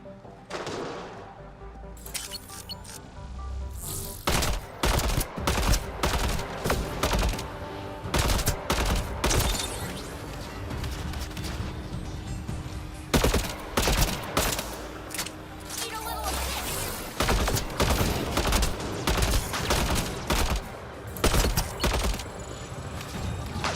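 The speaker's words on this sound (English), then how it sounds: "How are you shooting us through the rocks?" Dense gunfire in the sci-fi shooter Mass Effect Andromeda, with sharp rapid shots and bursts crackling steadily through the fight over a background of game ambience, with occasional talking in between.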